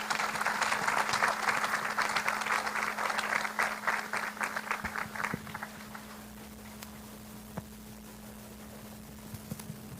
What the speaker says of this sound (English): Let's give a round of applause to your two finalists this evening.